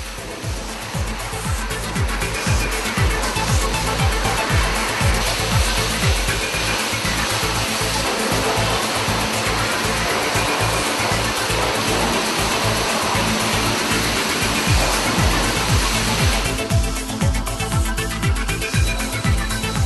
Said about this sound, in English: The surface is now cleaned from the bottom upwards with the high-pressure jet using fresh water only, and then rinsed down.